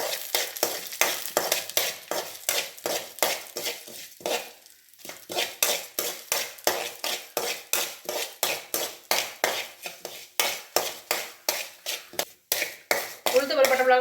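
Urad dal and dried red chilies roast in hot oil for thuthuvalai thuvaiyal. A soft sizzle runs beneath quick, regular scraping strokes of a stirring utensil against the pan, close by and continuous, pausing briefly once.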